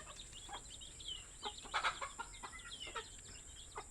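Chickens clucking on a quiet rural farm in the Philippines, scattered soft clucks and calls from a few birds at moderate distance, with steady insect-like hiss in the background and no talk.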